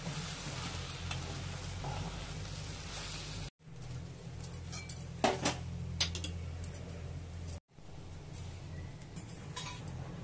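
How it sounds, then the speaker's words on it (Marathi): A spoon stirs and mixes phodnichi poli, torn chapati pieces tossed through a seasoned tempering in a pan, with soft scraping and light clinks over a steady low sizzle, broken by two brief gaps. "सर्व मिक्स करायचं, असं हलवून घ्यायचं."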